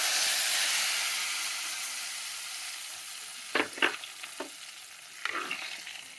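Hot tempering (popu) poured into a mutton curry with chukkakura, a steady sizzle that briefly flares with a few clanking stirs and pan knocks, then settles back into a softer hiss.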